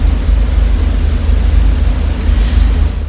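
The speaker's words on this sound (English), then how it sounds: "That noise is the engine." The massive engine of a large ship rumbles loudly and steadily in a deep, continuous drone, with a faint wash of wind and sea noise over it.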